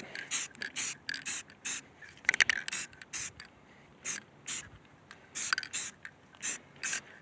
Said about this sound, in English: And in between painting, I shake the can.